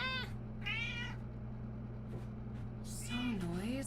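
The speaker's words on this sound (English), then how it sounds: "I heard that meow, she knows." A pet cat meows several times, with rising, tonal calls at the start and again near the end, over a steady low indoor hum.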